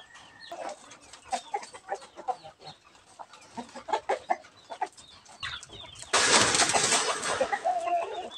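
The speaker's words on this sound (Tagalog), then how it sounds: "Itong tatlong tandang na ito" Three roosters and other chickens cluck and call in scattered bursts close by, ending in a louder, noisier flurry of calls.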